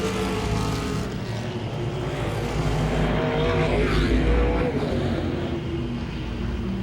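Modified race cars at Langley Speedway roar around the short track, with a loud, continuous engine drone and a rising and falling pitch as cars pass near, mixed with faint commentary.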